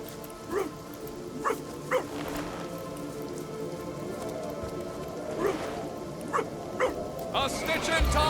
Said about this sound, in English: I'd better watch out for that dog. Pooch doesn't look very happy,